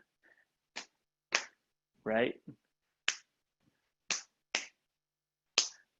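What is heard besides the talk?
body percussion taps, stomps and claps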